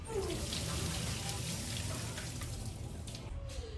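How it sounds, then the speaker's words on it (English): Hot water poured off cooked potatoes to drain them for a cheesy potato spring salad, a close, steady rushing splash into the sink lasting a few seconds. "So what I'm going to be doing is to drain my potatoes."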